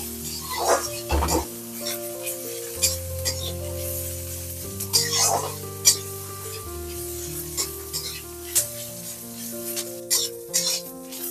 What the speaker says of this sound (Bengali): দেখুন পেঁয়াজটা কিন্তু একটু লালচে করে ভাজা হয়ে গেছে